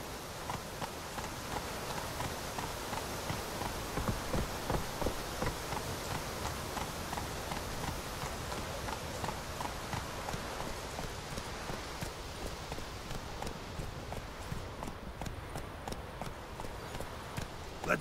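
Roach the horse gallops through The Witcher 3 game world, a steady rapid clip-clop of hooves running continuously and fairly loud throughout, without talk over it.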